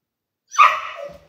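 A single sharp dog bark, close and clear, rises suddenly out of silence and fades within a second.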